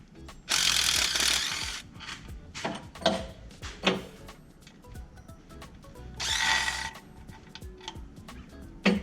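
A power tool works on outboard motor bolts during an oil pump change, with loud bursts of rattling impact hammering at the start and again mid-clip, separated by scattered metallic clicks and clanks nearby.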